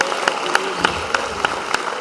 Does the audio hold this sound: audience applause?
yes